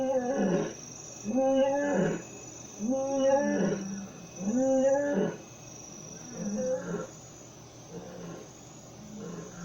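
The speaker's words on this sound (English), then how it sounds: "Alerted by the commotion, a lioness calls for reinforcements." A lioness in the African wild gives a series of deep, grunting roars, about five rhythmic calls that fade toward the end, with faint insects in the background.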